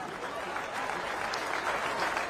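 An audience applauds the United States European Command Joint Service Color Guard and Joint Honor Formation at an independence celebration in Brussels, a brief burst of dense, steady clapping.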